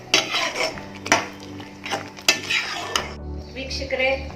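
A spoon scrapes and clanks against a pan while baby corn masala is stirred, several sharp metallic knocks over a low sizzle and steady stove hum.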